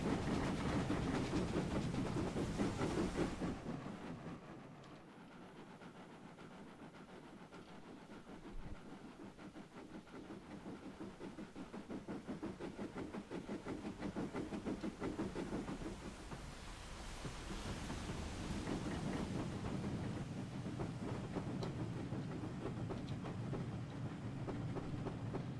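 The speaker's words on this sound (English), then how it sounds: "Quite a heavy train as well." Heavy steam-era train in a 1950s Riviera Line setting in Train Simulator Classic, a continuous low rumble and rolling clatter of wagons, steady and fairly loud throughout with no talk.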